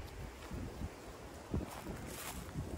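Strong wind gusts buffet the microphone where a river meets the sea, a rough, uneven roar with several louder thumping surges and no voices.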